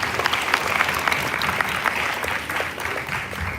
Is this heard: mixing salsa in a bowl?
no